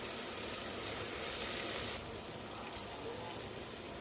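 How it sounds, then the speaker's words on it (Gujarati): Tomatoes cooking in oil in a pan, giving a steady, moderately loud frying sizzle that continues throughout and eases slightly about halfway, with no talk. "જ્યાં સુધી ટમેટા સોફ્ટ ના થઈ જાય ત્યાં સુધી આપણે એને તેલમાં ચડવા દઈશું।"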